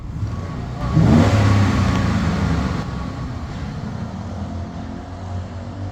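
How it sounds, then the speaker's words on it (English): A 2011 GMC Sierra 1500 pickup with 129,000 miles, warmed up, gets a sharp rev that swells loud and then settles back into a steady low idle, with no talking over it. "We're good to do a couple revs."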